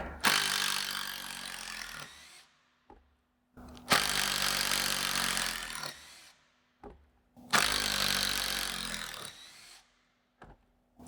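A Makita entry-level impact driver backs out screws in three long, loud rattling hammering bursts of about two seconds each, separated by brief pauses with small clicks.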